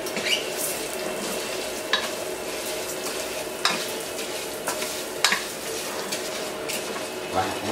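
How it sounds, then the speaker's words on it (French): Rice toasts in hot fat in a saucepan with a steady close sizzle, while a utensil scrapes and stirs at irregular intervals. "quand la matière grasse va être chaude, je vais mettre le riz"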